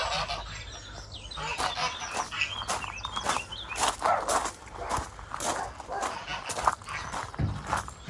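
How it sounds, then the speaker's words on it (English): Geese near a garden pond honk repeatedly in loud, close bursts, with a dog barking among the calls. "see if we can get past the killer geese"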